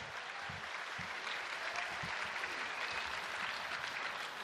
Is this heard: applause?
yes